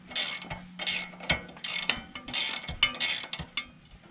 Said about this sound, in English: Use my ratchet wrench. Makes this really nice. Just lock this down so it's nice and tight.